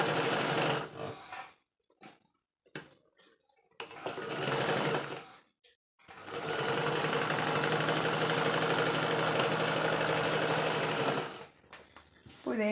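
Electric sewing machine stitching a garment neckline, loud close whirring bursts, short stops and starts at first, then a long steady run and a final brief burst.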